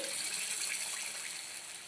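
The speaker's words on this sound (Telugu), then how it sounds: "వాటర్ పోస్తున్నాను హాట్ వాటర్ పోయండి" Hot water poured into a pan of mutton curry, a brief, steady, hissing gush that stays fairly soft and even, with no talk.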